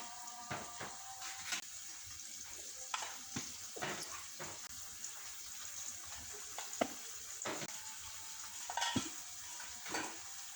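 Spices and salt sizzle in oil in a pan for chicken tikka biryani, a constant faint hiss broken by scraping stirs and clinks of a spoon against the pan.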